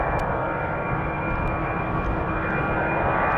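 EasyJet Airbus jet engines at Amsterdam Schiphol Airport make a loud, steady roar with a constant whine layered on top, unbroken throughout.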